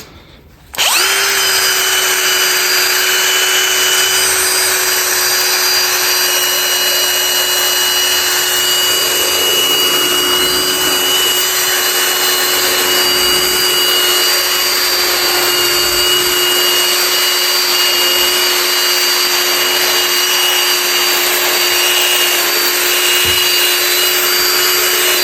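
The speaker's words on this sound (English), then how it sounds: "Vacuum it up last" A vacuum cleaner switches on during a car interior detail and runs with a steady, loud whine and roar that holds without a break for the full duration.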